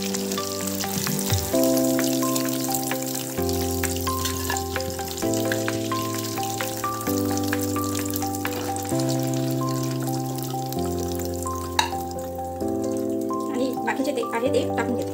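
Modak frying in hot oil keeps up a dense crackling sizzle throughout, over a sustained background musical drone.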